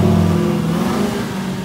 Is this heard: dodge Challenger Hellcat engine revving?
yes